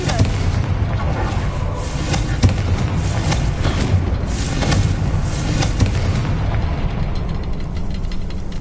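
A Confringo fire spell from Hogwarts Legacy, cast in combat, sets off a dense, continuous roar of booming blasts and thuds with sharper cracks, loud and sustained throughout.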